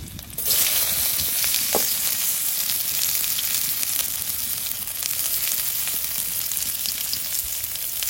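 Cumin, garlic and onion hit hot oil with a sudden loud burst of sizzling that holds steady and close to the end, with a faint clink or two and no voices.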